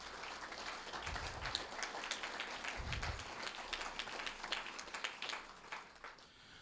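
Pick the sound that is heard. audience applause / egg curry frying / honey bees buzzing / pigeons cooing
audience applause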